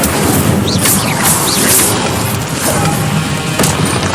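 Incendio fire spell blasts in the Hogwarts Legacy video game, a loud, dense roaring burst with repeated crackling whooshes and booms that fill the whole stretch without a break.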